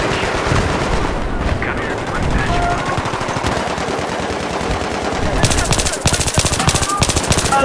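Heavy gunfire in the video game Battlefield 3 on the Grand Bazaar map, continuous automatic bursts and overlapping shots under a constant loud din, with rapid fire intensifying near the end.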